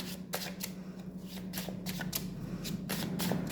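Tarot cards being shuffled by hand in several quick riffling bursts, close and fairly quiet, with a low steady hum underneath.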